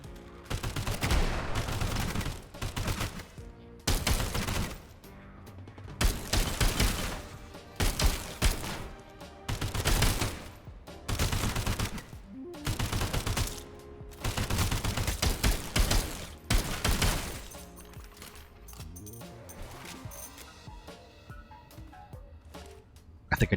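7.62 rifle gunfire in the video game SULFUR, a long string of loud, close shot bursts and single reports with brief gaps between volleys, fading to quieter clatter near the end.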